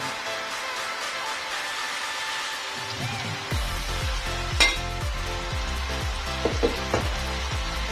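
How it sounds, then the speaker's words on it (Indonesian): Boiled, sliced cassava leaves hit a hot pan and are stir-fried, a loud steady sizzle giving way to a rhythmic series of scraping spatula strokes and occasional clacks, close up and without talk. "Ini kita tumis."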